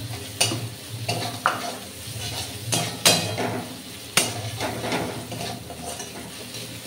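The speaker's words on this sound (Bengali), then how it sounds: "তো আমার পেঁয়াজ রসুন কষা হয়ে এসছে, তো এর মধ্যে আমি দিয়ে দিলাম একটু টমেটো কুচি।" Chopped tomato stirred into onion and garlic that have been browning in a pan for a yam curry: a steady sizzle under repeated scraping spatula strokes, with several sharp knocks of the utensil against the pan.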